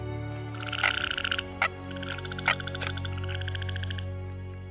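Indian bullfrogs croak repeatedly in rapid, buzzing bursts over a low, steady background hum. Several calls overlap at close range, with a few sharp clicks in between.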